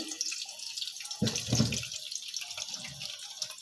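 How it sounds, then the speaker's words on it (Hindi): Cauliflower fries in a pan for a beef gobhi gosht salan, giving a continuous bright hiss with a brief heavier burst of sizzling near the middle; no one speaks. "ये देखें, गोभी मैं इसमें डाल रही हूँ। बस इसे जस्ट मैं फ्राई करूँगी।"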